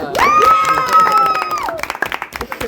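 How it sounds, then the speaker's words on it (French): Audience applause and cheering in a French TV studio as a standing ovation greets Pierre, with a loud whooping voice rising above the clapping and more talk and noise following. "alors là, standing ovation pour Pierre"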